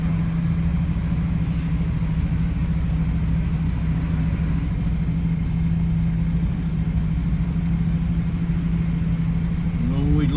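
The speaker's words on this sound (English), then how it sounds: "And always lots of trucks coming and going." Heavy traffic with trucks coming and going on a busy road near Widnes Bridge makes a constant low engine drone and rumble at moderate distance, while someone talks over it.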